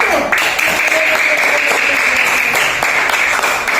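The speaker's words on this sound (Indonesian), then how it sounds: "Beri tepuk tangan untuk kelompok 1." A school class applauds for the winning group, a steady wash of clapping lasting a few seconds with faint voices mixed in.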